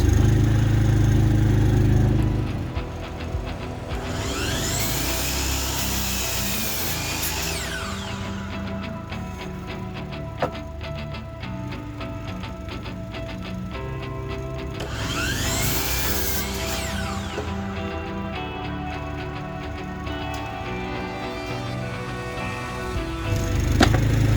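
A power saw cuts lumber for log cabin interior wall framing, running steadily with two distinct rising-and-falling cutting passes, loud and close throughout.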